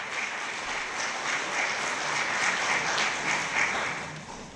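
Steady, dense applause from a large audience at an awards gala for young achievers, a continuous wash of clapping that fades slightly at the end.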